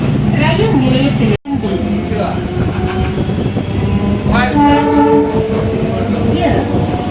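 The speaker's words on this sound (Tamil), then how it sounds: "This is a slow train with 12 coaches from Chennai Beach." A 12-coach Chennai local slow train rumbles loudly and close, with a horn sounding and wheels clattering along the line while voices talk over the noise.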